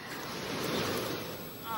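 Sea waves breaking on a Thai shore beside an outdoor seafood cooking spot, a broad continuous wash of surf swelling and easing with wind noise on the microphone, no clear voice over it.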